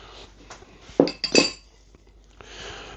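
A spoon clinks against dishes while preparing baked doughnuts, two or three sharp metallic taps close by in a quiet kitchen.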